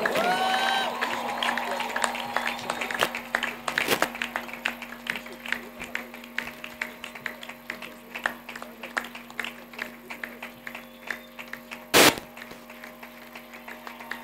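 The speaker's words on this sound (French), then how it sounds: "Nous répondons l'homme de Dieu par des cris de joie et des acclamations." A church congregation at a worship service claps and cheers with joy, a busy stream of sharp handclaps and scattered shouts over a steady hum, with a few louder bursts standing out.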